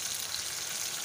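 Freshly ground tomato puree, from three tomatoes, hits a hot pan while an Indian vegetarian dinner is cooked, giving a soft, steady sizzle and hiss, close by, with no talking.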